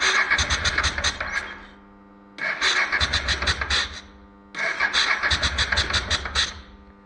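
A 1996 Honda NTV 650 motorcycle running dry without a tank, its engine cranking and catching in three loud bursts of about two seconds each, with short quiet gaps between them.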